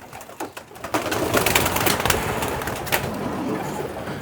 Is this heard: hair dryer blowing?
no